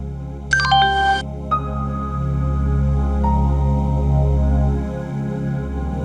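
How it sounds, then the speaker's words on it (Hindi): A short electronic phone ringtone melody, followed by lingering sustained tones over a low background hum. "तुम्हारा फोन बज रहा है।"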